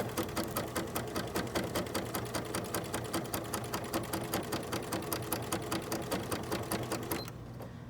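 Sewing machine stitching fabric, overlapping a prior stitch line, as a steady rapid mechanical chatter of needle strokes that runs close and loud for about seven seconds before stopping abruptly.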